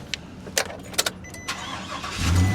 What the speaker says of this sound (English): Start their trucks up for them so their trucks is nice and warm.